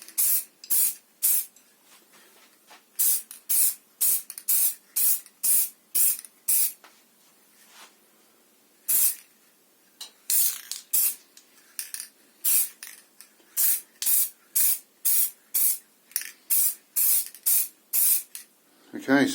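Spray cans of paint hiss in short, repeated bursts, each a second or so long with brief pauses between, as coats go onto a guitar headstock, fairly close and with no talking.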